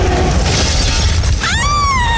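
Car window glass shatters in a sharp, loud burst, followed by a rising, ringing tonal effect in a dramatized horror story about an aswang in Capiz.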